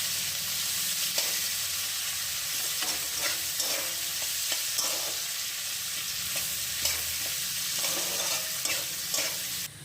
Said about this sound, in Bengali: পেঁয়াজটা নেড়ে চেড়ে নিচ্ছি। পেঁয়াজটাকে একটু ভাজা ভাজা করে নিতে হবে।